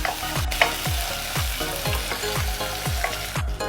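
Chopped onion with garlic sizzles steadily in hot oil for a tomato kurma, loud and close, with a regular scrape of a stirring spoon roughly every half second and no talking.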